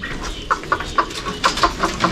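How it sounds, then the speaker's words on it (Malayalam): White chickens kept in cages on a small farm cluck in a quick series of short, close calls, several bursts overlapping against faint background noise. "പലതരത്തിലുള്ള കോഴികളുണ്ട്"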